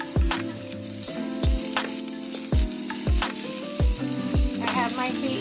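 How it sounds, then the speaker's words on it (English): Minced garlic sautéing in a pan gives a steady sizzle, with regular sharp clanks of a utensil knocking against the pan at roughly one-second intervals. "For 2 minutes we're going to add in our minced garlic. Let that saute 1 minute."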